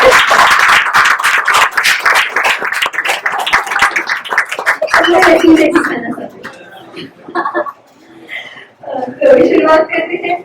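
An audience claps loudly and densely at a Vishwa Hindi Diwas gathering at the Seattle Indian Consulate. The applause dies out after about five seconds, and voices and laughter follow.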